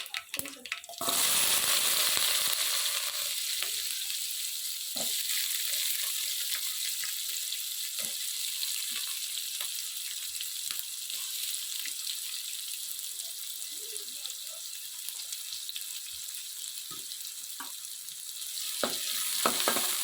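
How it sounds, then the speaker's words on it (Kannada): Onions frying in oil with mustard seeds and cumin, a soft steady sizzle after an initial loud splash as they hit the pan, with occasional light stirring clicks. "ಈರುಳ್ಳಿ ಹಸಿ ಸ್ಮೆಲ್ ಹೋಗೋ ತನಕ ಫ್ರೈ ಮಾಡ್ಕೊಳ್ಳೋಣ."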